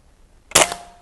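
A single sharp crack from an unmoderated Niksan ELF-W .22 air rifle fired outdoors, loud and close, with a short tail after the shot.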